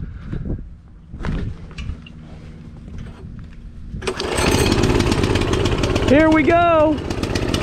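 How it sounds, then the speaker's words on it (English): A Coleman CT200U minibike engine with its throttle stuck open runs at a high, steady roar after a quieter start; someone speaks briefly early on, and a later voice-like whine rises and falls over the engine. "I am going to leave it idling the whole time. I will not be touching the throttle at any point in time."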